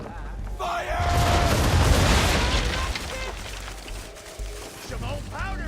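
Ship cannons fire a heavy, booming volley with a long rumbling roar in the naval battle of the video game Assassin's Creed III, then fade while voices shout over the tail.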